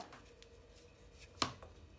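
A knife cutting through a fresh potato for fried potatoes: one sharp, crisp chop stands out near the middle among a few faint softer taps, close and quiet otherwise.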